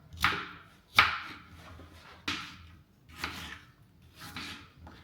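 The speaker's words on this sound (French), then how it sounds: "On va éplucher une pomme, très grossièrement" An apple being peeled roughly with a blade: five close, rasping scrapes spaced about a second apart, each sharp at the start and then fading.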